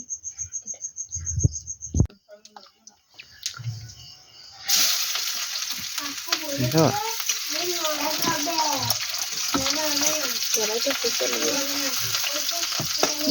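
Potato curry fries in a pan, a loud continuous sizzle that starts abruptly partway through after some quieter clattering, with a voice talking over the frying.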